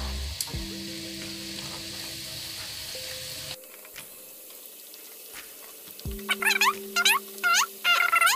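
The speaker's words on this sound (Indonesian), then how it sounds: "Jadi seperti ini ya pemirsa, tahap penggorengannya, apinya kecil saja." Elephant ear cookies (kue kuping gajah) frying in oil over low heat, a steady close sizzle with a few clinks, then water running and splashing in bursts toward the end.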